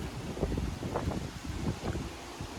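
Strong wind from a nearby rain shaft buffets the microphone in a steady, rough roar with gusty surges throughout, no voices present.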